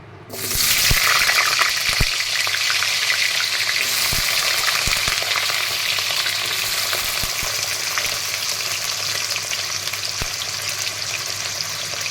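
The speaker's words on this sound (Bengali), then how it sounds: "এবার আলুটাকে ভেজে নেব।" Potatoes hit hot oil in a pan with a sudden loud sizzle that settles into a steady, close frying hiss lasting throughout, with occasional faint knocks.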